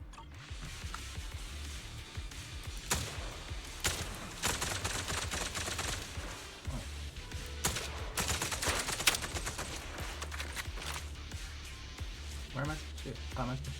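Video game gunfire aimed at high-pressure ether storage tanks: rapid bursts of shots crack repeatedly over a continuous game soundtrack, with a player talking in between.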